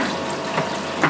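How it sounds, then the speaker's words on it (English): Water runs steadily through an aquarium turf scrubber at 1500 litres an hour, making a short, even rushing gurgle close by with slight splashy swells. "We have 1500 litres an hour running through this turf scrubber"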